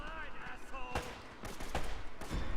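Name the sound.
gunfire in video game Uncharted Drake's Fortune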